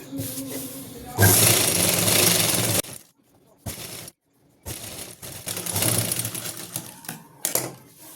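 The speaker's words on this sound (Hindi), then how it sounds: "अब आपको पॉइंट की सिलाई लगानी है, यहाँ पे इस जगह आपको पॉइंट की सिलाई लगानी है।" Electric sewing machine stitching salwar fabric, loud rapid mechanical bursts of a few seconds each separated by pauses, with a short handling clack between runs.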